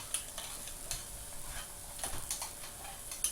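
Onions sizzling in a pan while a small spoon stirs them quickly, light clinks and scrapes ticking over a steady close frying hiss, with no one speaking.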